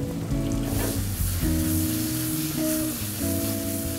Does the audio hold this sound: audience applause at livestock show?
no